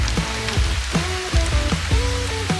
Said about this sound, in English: It always wants to rain.